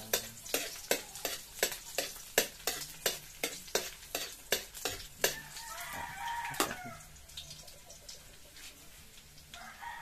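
Garlic frying in hot oil for a braised pork leg dish, a steady sizzle under a run of sharp, regular stirring knocks from a utensil hitting the pan, with the knocking giving way to a louder, continuous sizzle toward the end.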